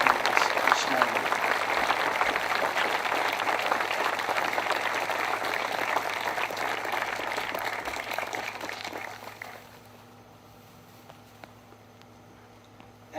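Sustained audience applause at a September 11 memorial observance in Pennsylvania, honoring aviation workers, pilots and flight attendants, steady and moderately loud for about nine seconds before dying away to quiet room tone.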